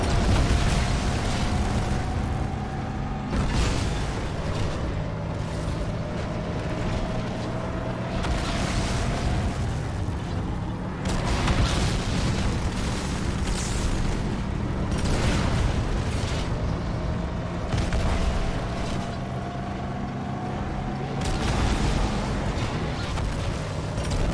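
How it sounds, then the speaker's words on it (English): Ghost vehicles explode in Halo 2 Anniversary, heavy booming blasts recurring every few seconds over a continuous dense roar of battle noise and rising engine whines. "the ghosts exploding have done more damage than actually shooting me"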